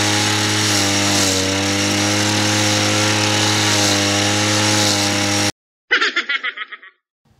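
A two-stroke grass cutter runs steadily and loudly at a backyard farm in Cebu, its harmonic engine drone constant for over five seconds before cutting off, followed by a brief sputtering burst as it coughs.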